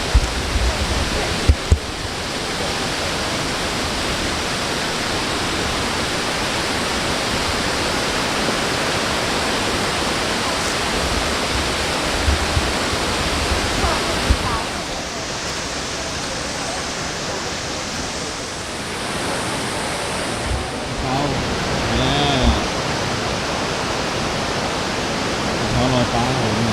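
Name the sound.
Wulai waterfall rushing water in Taiwan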